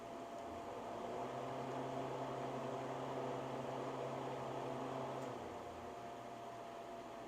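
A loaded freeze dryer runs with a steady, even mechanical hum and whir, like a fan or compressor, holding at a constant level throughout with no speech.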